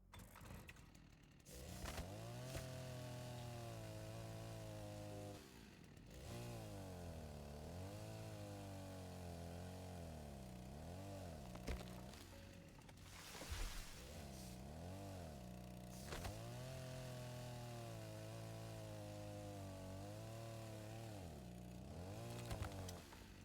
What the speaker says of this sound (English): I got the chainsaw. I'm right here. Let me just get the trees.